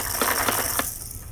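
Plastic toy shapes drop into the slots of a shape sorter on a 2-in-1 seal activity walker, giving three light, evenly spaced clunks close by over a soft background hiss.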